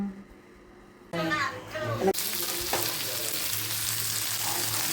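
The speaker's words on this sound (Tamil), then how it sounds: "வரமிளகாயை போட்டு வதக்கிட்டு ஒரு நாலு பெரிய வெங்காயத்தை போட்டு இந்த மாதிரி வதக்கிக்கலாம்" Dried red chillies and onions dropped into hot oil in a pan for Coimbatore-style tomato chutney, a sudden loud sizzle that settles into a steady crackling fry, with a voice heard briefly beforehand.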